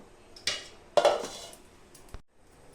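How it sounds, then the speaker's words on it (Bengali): A metal lid lifted off a pressure cooker, giving a few close, sharp clanks of metal on metal followed by a short scrape, with no talking. "আমি ঢাকনাটা উঠিয়ে দিব"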